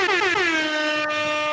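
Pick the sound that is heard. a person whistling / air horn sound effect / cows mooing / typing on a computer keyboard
air horn sound effect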